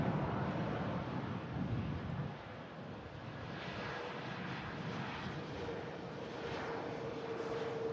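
Jet airliner arriving at Manchester Airport from Alicante, a loud continuous engine roar with wind rush that holds steady throughout, heard alone without talk.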